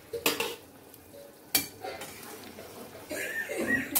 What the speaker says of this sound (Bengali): এবার ভেজে রাখা বেগুনগুলো এর মধ্যে দিয়ে দেব